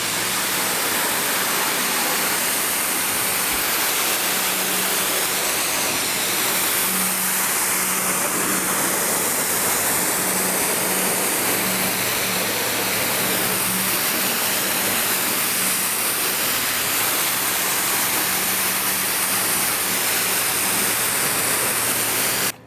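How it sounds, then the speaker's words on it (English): A pressure washer rinses down an Audi Q2 S-Line, giving a steady, close, broadband hiss of spraying water with a low pump drone beneath, unbroken for the whole stretch with no talk. "rinse on an uphill rinse and rinse every single bit off, or you're going to get marks"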